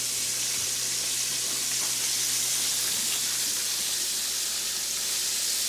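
Steady, dense sizzling of chicken wings frying in hot corn oil, a constant bright hiss that never lets up, with no talking.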